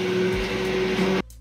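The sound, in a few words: Vitamix E310 blender running at high RPM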